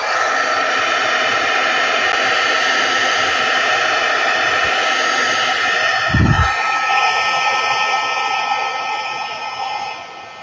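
A heat tool blows a continuous loud, steady roaring whoosh close by while heating a card piece held in tweezers. A brief low thump lands midway through, and the roar eases slightly toward the end.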